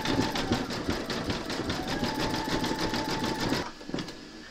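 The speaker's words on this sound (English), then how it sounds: "you're now going to stitch round number 14, and that's going to zigzag up his side" An embroidery machine stitching a zigzag line on an in-the-hoop scarecrow applique, fast steady needle pulses with a mechanical whir that run evenly, then stop near the end with a couple of final clicks.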